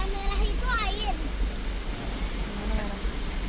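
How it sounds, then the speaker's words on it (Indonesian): Light drizzle falls on a 2021 Toyota Fortuner 2GD, heard from inside the cabin during a road trip as a steady soft hiss and patter over low road rumble, with a voice speaking briefly at the start. "hujan gerimis ini"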